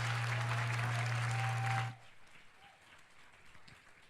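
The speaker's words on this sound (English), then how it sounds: "give another round of applause" Audience applause at an Easter puja music program in Australia, a loud sustained round of clapping over a steady hum that cuts off abruptly about halfway, leaving quiet room noise.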